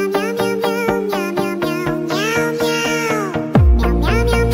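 Two cats meow back and forth in loud, drawn-out, overlapping cries, close by, like a quarrel, with a sharper yowl near the end.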